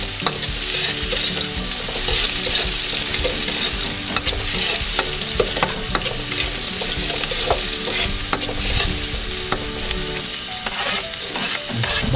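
Chopped onion frying in hot cooking oil while being stirred, a steady loud sizzle broken by frequent scraping clinks of the utensil against the pan throughout, with no talking.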